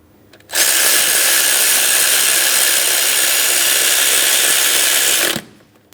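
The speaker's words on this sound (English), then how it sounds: "Now we can go ahead and tighten this hardware." A power tool whirs steadily for about five seconds, loud and close, tightening the bolts on an alternator belt tensioner pulley of a 2003-2007 Cadillac CTS with a 3.6L V6, starting and stopping abruptly.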